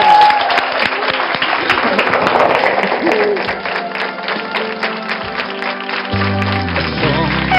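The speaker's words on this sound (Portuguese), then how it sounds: "Isso merece uma grande salva de palmas." Studio audience applause on a Portuguese afternoon TV show, lively clapping that eases off partway, with a voice speaking over it and music or tones coming in near the end.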